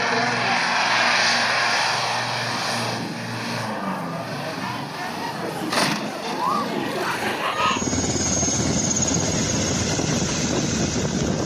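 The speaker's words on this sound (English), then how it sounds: "An unnecessary maneuver nearly sent this Mexican pilot's Black Hawk helicopter straight into the water." A Mexican Black Hawk helicopter flies low over water, a loud, steady broadband roar of rotor and engine that holds for the whole stretch and grows rougher and denser near the end.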